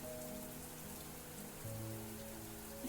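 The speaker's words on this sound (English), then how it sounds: "The sound of rain was so annoying." Steady rain pattering on a surface within a visual novel game, a continuous close wash of drops over a low, sustained musical drone, with no voices.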